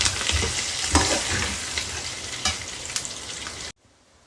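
A Janmashtami prasad mixture is stirred as it fries in a pan, giving continuous close sizzling with scraping strokes and small clinks, then stopping abruptly into silence near the end.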